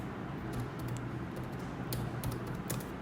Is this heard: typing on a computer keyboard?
yes